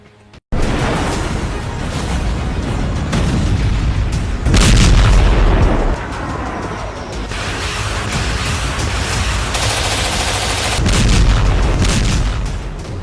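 Heavy explosions from Israeli strikes in Syria, a continuous roar of booming blasts and rumbling detonations with a sharp onset, loud and sustained throughout with several surges, no talk over it.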